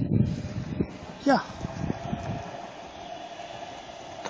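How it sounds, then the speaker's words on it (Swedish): A Stockholm metro train rumbles past at Vällingby Centrum on a snowy February morning, a low sustained roar with a brief metallic squeal, while a person talks nearby. "Tunnelbanan."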